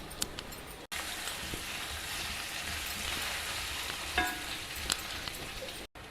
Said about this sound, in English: Spread it around like this in your kadai and allow it to get well roasted.